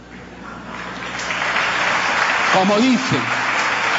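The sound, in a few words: audience applause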